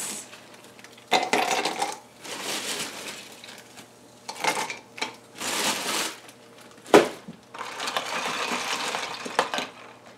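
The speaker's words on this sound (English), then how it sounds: "And then fill it up with some ice." Ice cubes rattle and clatter into a cup for a keto electrolyte drink, coming in several bursts of crunching and clinking with one sharp knock partway through, close up and with no talk.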